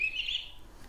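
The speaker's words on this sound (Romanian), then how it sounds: "uite, vrabie" A sparrow gives a single short, bright chirp, close and clear over faint background noise.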